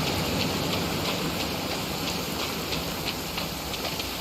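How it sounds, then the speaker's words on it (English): Steady rain falling in the video game Genshin Impact, a dense even hiss of drops with faint patters on surfaces, continuous and fairly close, no voices. "Oh no, it's raining!"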